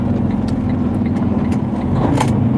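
A car on a road, heard as a steady mid-range engine drone with low rumble throughout, fairly close and continuous with no clear pass-by peak.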